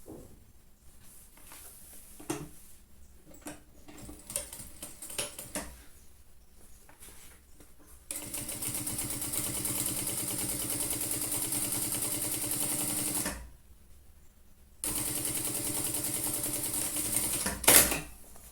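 A sewing machine topstitches the bottom of a trapezoid pencil case, running in two sustained mechanical bursts after quieter handling noises, with a short pause between runs.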